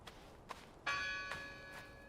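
A church bell rings in the game Draugen, with a few distant strokes and then a stronger, sustained metallic tone that slowly decays, faint and alone with no talk.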